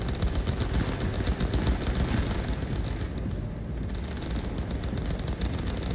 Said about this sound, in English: they're all shooting at each other